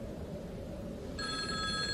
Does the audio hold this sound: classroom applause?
no